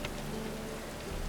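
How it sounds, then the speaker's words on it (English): Rain falls in The Witcher 3 as a brief, steady soft hiss of drops pattering on surfaces, with no voices. "Well, it is raining outside, miss."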